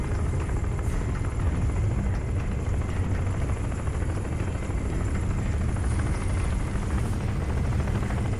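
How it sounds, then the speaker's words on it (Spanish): Helicopter in the video game Crysis, a loud steady rotor thrum and engine whine holding constant throughout, with no speech over it. "Para colmo de males, viene un helicóptero"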